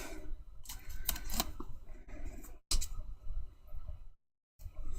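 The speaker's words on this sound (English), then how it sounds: "Get our foam scissors." Foam scissors snip through craft foam, giving a series of quick, crisp clicking cuts and rustles, close up and fairly faint, with brief pauses between bursts.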